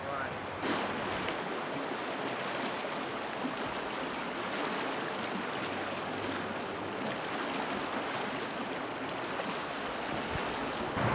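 Flowing water of the Provo River at a fly fishing spot, a steady broadband rush filling the scene at close range, continuous and unbroken throughout with a slight wind buffet early on.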